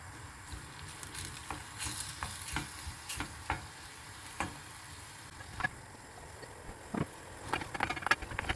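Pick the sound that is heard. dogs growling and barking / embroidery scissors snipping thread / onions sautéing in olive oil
onions sautéing in olive oil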